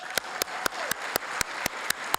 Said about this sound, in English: Can we please give Sabrina a big round of applause?